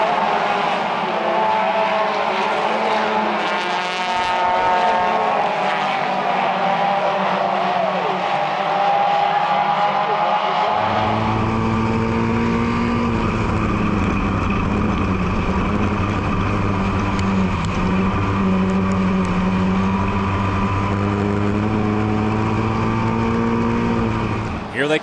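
Race cars lapping an oval track, engines roaring at high revs in a sustained loud drone that shifts pitch as cars pass and bunch together, with a commentator's voice running over the top.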